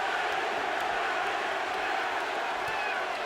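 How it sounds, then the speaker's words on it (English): Boxing arena crowd at Pavlik vs Taylor chanting a fighter's name, a dense steady roar of many voices filling the hall at constant moderate loudness throughout. "Crowd begins to chant, Pavlik, Pavlik, Pavlik."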